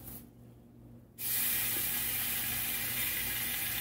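Chicken thigh meat dropped into a hot pan for jambalaya bursts into a loud, steady sizzle after a second of quiet hiss, close and continuous with no voices.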